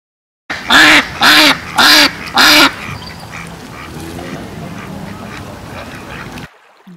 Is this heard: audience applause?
no